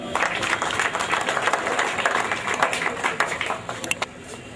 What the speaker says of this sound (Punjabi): ਇਹਨਾਂ ਵਾਸਤੇ ਜ਼ੋਰਦਾਰ ਤਾਲੀਆਂ